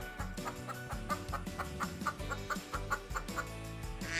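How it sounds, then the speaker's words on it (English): A hen clucks softly and repeatedly in a quick, irregular rhythm, quiet and close, with no other sounds over it. "Hen gives us eggs."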